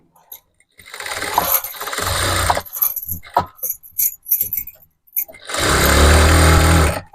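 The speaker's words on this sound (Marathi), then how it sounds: "मी जास्तच लूज असल्यामुळे थोडेसे एक अर्धा इंचाने साईडला टीप मारून घेते" A sewing machine stitches a half-inch side seam on a ready-made top. It gives two loud, close bursts of rapid whirring, separated by quieter clicks and fabric handling.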